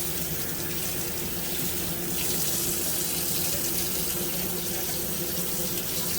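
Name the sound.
water poured into heavy whipping cream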